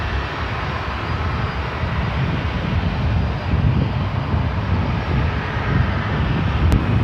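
A Delta jet airliner at Seattle-Tacoma International Airport takes off from runway 34 right, a broad steady engine roar with rumble, sustained and fairly loud throughout, no talk.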